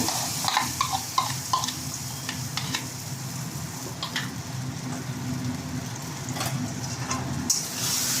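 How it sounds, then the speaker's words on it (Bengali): A utensil scrapes and stirs dhoka curry, lentil cakes with sugar and turmeric, around a wok over a low sizzle, with repeated clattering strokes at an irregular pace, close by. "একটু নাড়াচাড়া করে নেব।"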